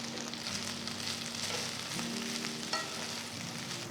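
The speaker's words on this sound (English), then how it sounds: "Just saute the leaves together for about 2 to 3 minutes till they are all wilted." Fresh mint and chopped coriander leaves sauteing in gingelly oil in a pan, a steady close sizzle with a brief scrape of stirring partway through.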